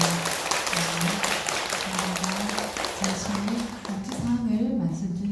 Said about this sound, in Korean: 오늘 소중한 마음들을 나눠주신 우리 모두에게도 따뜻한 박수를 보내주시면 좋겠습니다.